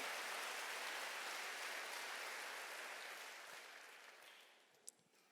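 Congregation at a Wednesday church worship service clapping together, a dense wash of applause that holds steady and then slowly fades, with no talking over it.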